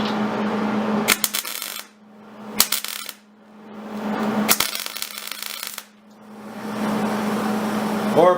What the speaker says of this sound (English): we're going to tack weld those in